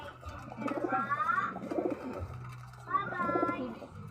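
Pigeons coo in low, rolling phrases that repeat twice, with a few higher chirpy notes mixed in, close and fairly clear.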